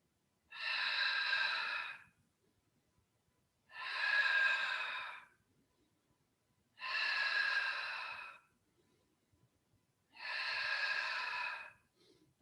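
Four slow, evenly spaced breaths taken during exercise, each a loud, close, airy rush lasting over a second with quiet gaps between them.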